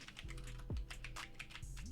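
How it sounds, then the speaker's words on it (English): Quick typing on a computer keyboard, a dense patter of small key clicks over a low droning background hum, faint and steady with no talking. "me typing in Clint Capella actually didn't do anything"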